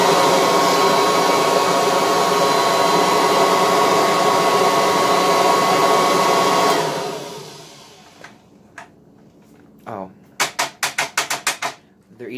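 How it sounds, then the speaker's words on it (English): Kirby Heritage vacuum cleaner running at setting 4, a loud, steady broadband roar for about seven seconds before winding down, followed by a series of sharp clicks and knocks close by. "Here's the Heritage."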